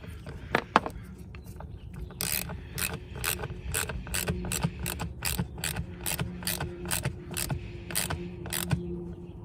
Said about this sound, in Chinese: 现在我们用8毫米给它每个拧紧